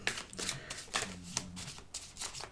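Tarot cards being shuffled, a quick run of riffling, papery bursts repeating in close succession, near and fairly quiet, with no talking.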